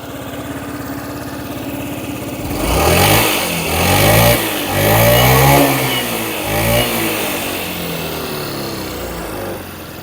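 A Honda Tact AF79 scooter engine idles steadily, then revs up in several rising and falling surges before settling back to a steady idle, loud and close.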